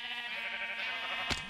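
A sheep bleats in the Minecraft video game, one long, steady, nasal bleat running alone through the whole short moment and ending with a quick sharp hit.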